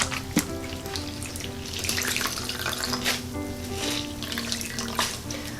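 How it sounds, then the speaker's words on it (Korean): Dried pollock strips being soaked in water and kneaded by hand in a home kitchen: a steady run of water and wet squishing with small splashes, close and continuous, with no talking. "이렇게 물에 적셔서 조물조물 해주면은"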